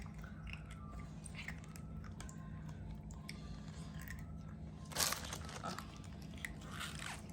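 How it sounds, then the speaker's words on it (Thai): Someone chews a crunchy snack close up, with repeated soft crunches and bites, one sharper crunch about two-thirds of the way in, all fairly quiet and with no talking. "เคี้ยวดังๆ"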